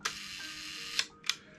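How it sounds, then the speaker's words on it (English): A Voigtlander Bessa RF film camera shutter fires twice with crisp mechanical clicks, close and distinct, about a quarter second apart after a brief earlier click, in a quiet room with no talking. "you fire the shutter with this lever at the side"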